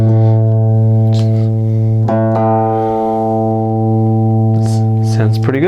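A steady sustained guitar note rings throughout while the instrument is tuned by ear, with a few light plucks and small pitch adjustments along the way.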